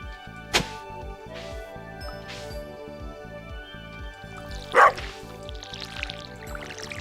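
Dog barking in the farming video game Stardew Valley, a few short yips over looping game music with rhythmic plucked notes, plus a brief splashy watering sound near the end.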